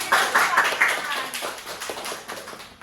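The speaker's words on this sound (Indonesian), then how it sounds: "udah kalau gitu tepuk tangan" Students in a classroom group counselling session clap their hands together briefly, a few quick bursts at first that thin into scattered, fading claps.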